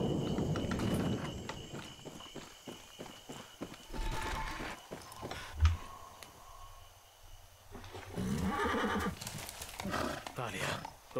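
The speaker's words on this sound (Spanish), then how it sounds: "Ese es un caballo con pintura." Horse hooves in the video game Far Cry 6, a run of rhythmic clip-clop steps with a whinny among them, heard under Spanish-speaking characters talking.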